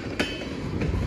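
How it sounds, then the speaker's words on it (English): Trains pass on the railway at Lake Avenue in Blasdell, New York, giving a steady rumbling wash of rail noise with a couple of sharp metallic clanks. No one speaks. "I never expected to see all these two trains yet."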